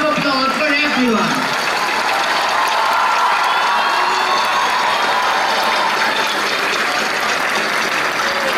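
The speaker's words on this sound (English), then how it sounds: "A round of applause for everyone." Audience applause for the cast of a school production of The Sound of Music at Father Agnel School, Noida: dense, steady clapping from a large crowd with some cheering, sustained for several seconds after a brief opening voice.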